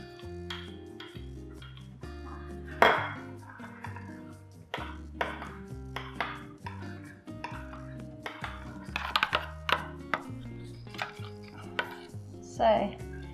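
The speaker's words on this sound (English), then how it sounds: "I'm just stirring the dark chocolate until it's all melted" Dark chocolate stirred in a bowl until melted, a series of sharp clinks and scrapes of a utensil against the bowl in irregular bursts, close and fairly quiet with no talk.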